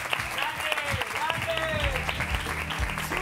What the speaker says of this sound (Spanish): Un fuerte aplauso, Albert Llorens.